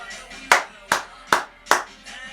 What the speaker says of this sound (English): Crisp clap.